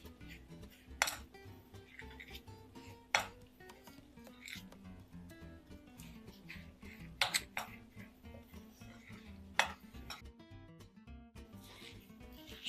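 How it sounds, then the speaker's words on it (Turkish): Ingredients for no-bake mulberry dessert balls being stirred in a bowl, soft scraping with occasional sharp clinks of a utensil against the dish at irregular intervals, fairly quiet and close. "Karıştırıyorum"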